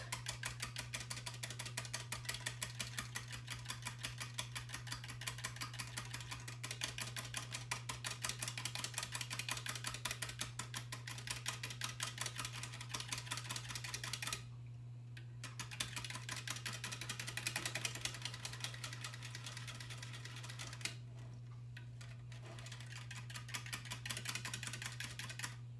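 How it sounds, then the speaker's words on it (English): A small mini whisk beats egg yolks into milk for banana pudding, producing a rapid, steady run of light metallic ticks that pauses briefly twice, over a constant low hum. "I'm just going to take my little mini whisk and just kind of lightly blend that in with the milk"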